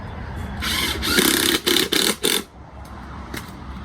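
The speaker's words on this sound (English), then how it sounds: "Pre-drill that hole." A power drill pre-drills a hole in construction lumber for a hexagon raised garden bed, a sustained whirring bore that breaks into several short bursts as the trigger is pulsed, then stops.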